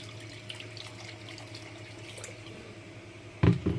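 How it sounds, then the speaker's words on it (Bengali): Water is poured into a cooking pot, with a short, close splashing burst near the end after a quiet kitchen background. "দেখো জল দিয়ে দিলাম।"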